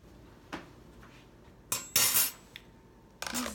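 A metal tray of sugar cookies goes into the oven: a few sharp clinks and clanks of metal, with a louder scraping rattle near the middle and another knock at the end, set against quiet surroundings.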